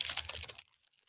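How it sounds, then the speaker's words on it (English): Plastic product packaging for yarn dots crinkles in a short, close burst of crackling that stops abruptly, followed by near silence. "Sorry for the crinkling."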